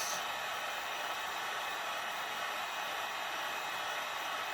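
A heat gun blows a continuous, loud, steady rushing hiss as it is passed over the ends of elastic strapping on foam armor to melt them together, with no voices.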